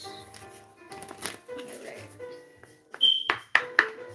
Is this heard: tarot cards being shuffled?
yes